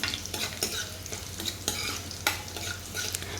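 Garlic fries in hot oil with a soft, steady sizzle, broken by repeated scraping strokes of a spoon stirring the pan at an uneven rhythm.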